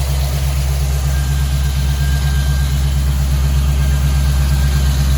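Tuned V8 in a Land Rover 90 with a high-lift cam and header exhaust, idling steadily with a deep, even rumble at close range, loud and continuous with no throttle blips.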